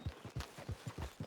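Horse hooves in Red Dead Redemption 2 beat out a quick, even clip-clop of about seven soft, close strikes in just over a second, with no talk.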